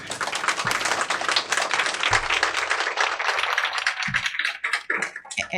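A political rally crowd applauds a Democratic nominee for Georgia governor, dense sustained clapping filling the whole stretch, loud and close with a few sharper individual claps standing out.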